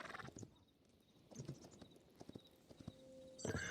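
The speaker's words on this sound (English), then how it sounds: "As you can see, I've got a horse now" Horse hooves clip-clop in the Hytale video game, a series of soft, uneven hoof taps at close range, faint overall, with a brief rising burst near the end.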